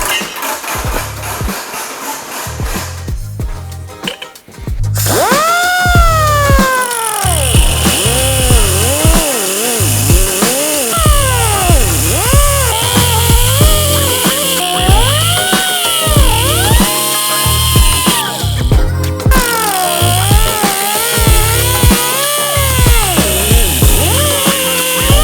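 A small angle grinder cuts a notch in a metal bracket, whining loudly up close with repeated rising and falling pitch as the disc bites and eases off, after a brief quieter start.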